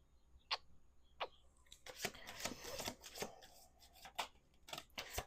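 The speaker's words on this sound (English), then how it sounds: "let's do 2 more shuffles here" Crisp riffling and snapping bursts of cards being shuffled, a couple of short flicks followed by a longer flurry of rapid clicks, close and quiet.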